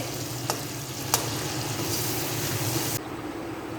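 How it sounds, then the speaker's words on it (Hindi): Tomatoes fry in a karahi for a Peshawari chicken karahi while a spoon keeps stirring, a steady close sizzle with two sharp clicks of spoon on metal before the sound cuts off. "मज़ीद हम इसको 10 मिनट और पकाएंगे और मुसलसल इसमें चम्मच हम चलाते जाएंगे"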